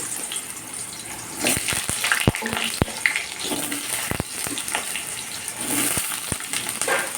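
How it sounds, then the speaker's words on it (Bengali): Potato pieces dropped into hot oil in a kadai on a gas stove, giving a steady sizzling hiss with scattered sharp pops and crackles throughout, close and moderately loud, with no talking. "গরম হয়ে গেছে তেল এবারে দিচ্ছি আলুগুলো ছেড়ে"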